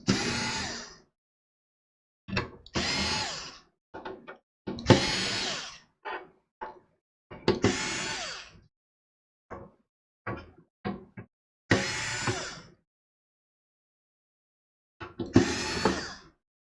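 A cordless power drill backs out six screws from the top panel of a Synology DS1825+ NAS. Repeated short whirring bursts are separated by silences, with brief quick triggers between the longer runs, all close and clear.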